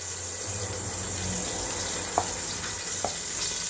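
Ginger frying in a pan gives a soft, steady sizzle with a low hum beneath and a couple of faint clicks of stirring, no talk.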